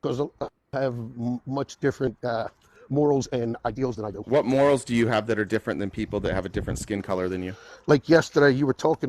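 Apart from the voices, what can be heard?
No distinct noise like a dog, phone or traffic.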